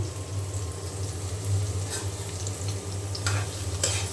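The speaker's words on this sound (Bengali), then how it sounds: "এখানে এই যে পালং শাক আমি ভাজি করব" Cut spinach fries in a pan with a steady close sizzle and crackle, broken by a few stirring scrapes and clinks.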